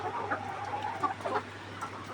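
Laying hens cluck in a hot layer farm on its sixth day of egg production, soft scattered clucks over a steady low hum of background machinery.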